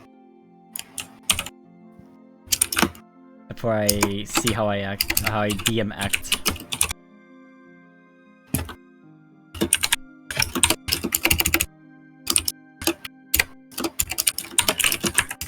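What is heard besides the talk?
loud computer keyboard typing clacks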